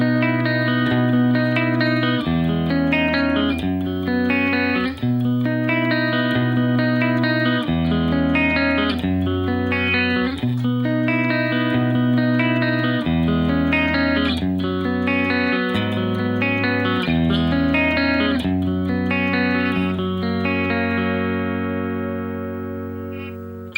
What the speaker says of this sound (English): We're going to start off with a clean guitar